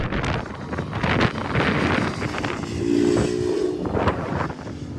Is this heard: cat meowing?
no